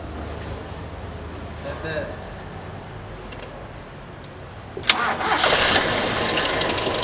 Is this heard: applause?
no